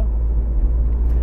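A Renault Twingo Zen pulls out of a roundabout, its engine a close, steady low rumble with road noise filling the cabin, unbroken and without speech.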